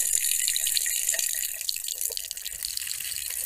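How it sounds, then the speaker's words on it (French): An AI-generated sound of a cup filling with water, a steady bright hiss of pouring liquid with faint bubbling and trickling, continuous and close, without speech. "On dirait plutôt un gobelet qui se remplit d'eau."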